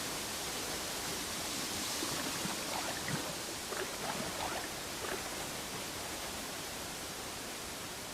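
Waterfall in the video game Uru: Ages Beyond Myst, a steady, fairly quiet rushing hiss that runs unbroken throughout with a few faint tonal flickers, and no voice.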